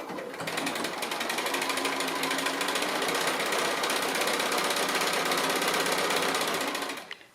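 A sewing machine runs steadily and close by, top stitching around the edge of a fabric face mask in one continuous whirring burst of about seven seconds with no pauses.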